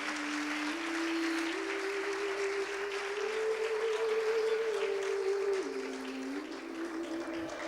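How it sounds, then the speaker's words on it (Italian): An audience claps steadily as Professor Maurizio Santilli is welcomed, the applause continuous and moderately loud over a sustained musical tone that shifts pitch. "accogliamo con un bel applauso il professor Maurizio Santilli"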